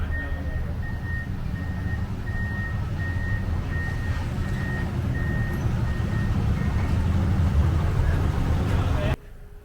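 A 1956 truck rumbles up close with a steady low engine drone, while a regular chain of beeps pulses over it before the sound cuts off abruptly.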